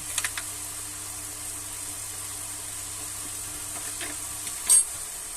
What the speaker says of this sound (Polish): No i smażymy jeszcze chwilę.